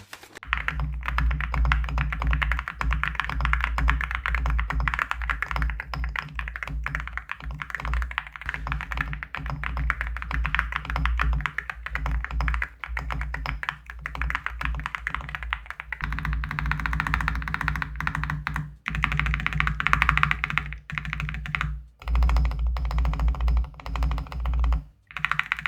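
Continuous fast typing on a Nada65 65% mechanical keyboard with ceramic keycaps, a dense, close clatter of keystrokes with deep, thocky bottom-outs and brief pauses between bursts, heard alone without talk.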